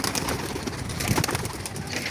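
Pigeons in a loft coo softly and continuously, a dense murmur of many birds close by with no talking.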